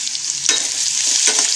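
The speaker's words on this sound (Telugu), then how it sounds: "కరివేపాకు, తాలింపు అన్నీ ఫ్రై అయిన తర్వాత మనం ఆనియన్స్ కట్ చేసి పెట్టుకున్నాం కూడా, అవన్నీ కూడా దీంట్లో వేసి మంచిగా ఫ్రై చేసుకోవాలి" Red chillies, curry leaves and onions fry in hot oil for an Andhra ulava charu, a loud, bright continuous sizzle up close with two quick stirring scrapes, no voices.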